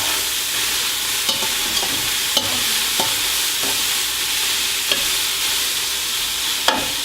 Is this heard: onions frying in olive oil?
yes